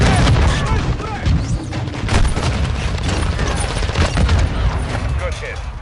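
Call of Duty: Modern Warfare II combat: dense gunfire and bursts with explosion booms and mechanical clatter, loud and continuous, with voices talking over the action.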